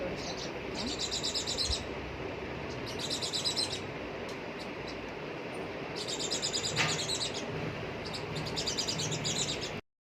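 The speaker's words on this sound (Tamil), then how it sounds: "எங்கள் வீட்டு பால்கனியில் 2 குருவி சிட்டுக்குருவி கட்டிக்கிட்டு இருந்தது" Sparrows chirp on a home balcony in rapid bursts of high tweets, several clusters spread across the span over a steady background hiss, fairly close and moderately loud.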